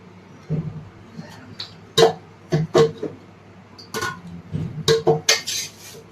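Spices, oil and fish curry (chapala pulusu) ingredients being stirred in a pot: irregular metallic clinks and scrapes of a spoon against cookware, close and fairly loud, without speech.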